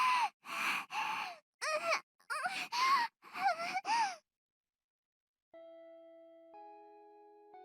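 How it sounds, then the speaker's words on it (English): A visual novel's bell marks the end of a break with a clean, sustained electronic chime that shifts pitch partway through. It sounds alone after a series of breathy vocal gasps and sighs. "the bell signaling the end of our break sounds"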